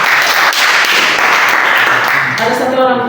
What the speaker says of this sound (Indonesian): tepuk tangan untuk kalian